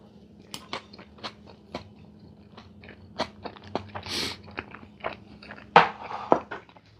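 Crisp chips crunch in a chili cheese omelet topped with fresh jalapenos, a long run of sharp, close bites and chewing crunches with brief pauses between them.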